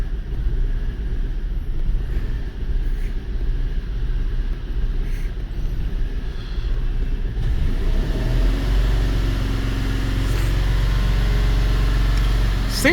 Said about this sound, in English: So after you raise the engine RPM, it smooths out.